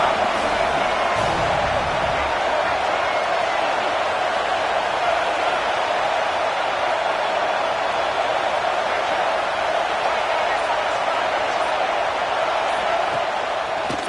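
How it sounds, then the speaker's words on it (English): A stadium crowd in a college football video game roars as one steady, loud wash of noise that holds for the whole stretch, with a faint thump near the start. "here comes the noise. This crowd is trying to inspire this defense to make a big red zone stop"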